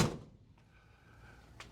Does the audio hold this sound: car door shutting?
yes